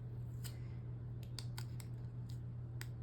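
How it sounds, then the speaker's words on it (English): Scissors cut out a paper planner sticker in a string of about eight short, crisp snips, close and fairly quiet over a low steady hum, with no talking. "so that it fits in the sidebar a little bit better, I'm going to cut this out"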